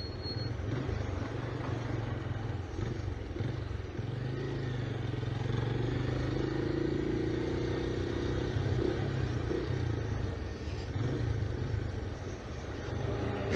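A Benelli Imperiale 400 motorcycle rides through city traffic, its mid-pitched single-cylinder engine thrumming steadily with slight swells as it accelerates, under constant wind and road noise.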